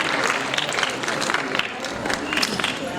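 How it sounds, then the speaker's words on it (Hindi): An audience at a classical dance tribute event claps together in a brief, dense burst of applause, the patter holding steady and fairly close for a few seconds. "एक बार तालियों के साथ अभिनंदन अभिवादन।"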